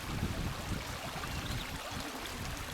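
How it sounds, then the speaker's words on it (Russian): A flooded river in Kamchatka rushes past with a broad, steady roar of moving water, heard close and continuous with no talk. "Реки, берега не вмещают столько воды."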